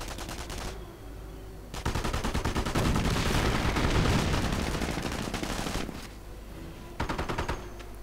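Rapid MP40 submachine gun bursts in a WWII strategy video game, sustained rattling automatic fire swelling into a dense loud volley at mid-distance, then short bursts, with no talking.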